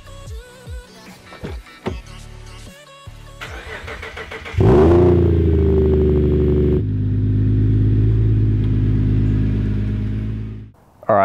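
A Subaru Liberty engine starts with a sharp burst, then idles and revs at a steady mid-pitched drone as the car is turned around, ending in a sudden cutoff after earlier clattering handling noises.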